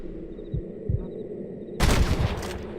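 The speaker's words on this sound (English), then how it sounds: "I can hear more gunshots." Gunfire in the Red Dead Redemption video game: a few sharp, punchy shots spaced apart early on, then a louder burst of overlapping blasts near the end over a low background hum.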